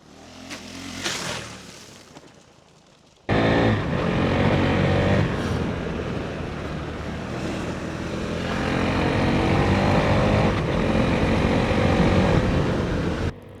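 A KTM 390 Enduro motorcycle ridden on an open road at higher speed, with a steady, loud engine drone and wind roar that start abruptly after a brief quieter stretch and then hold strongly, with no talk.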